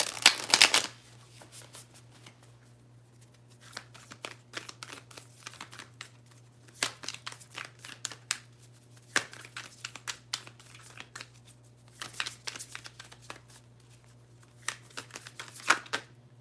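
Tarot cards are shuffled close by, with a sharp riffle burst at the start followed by repeated soft bursts of slipping, crinkly card sounds over a faint steady hum.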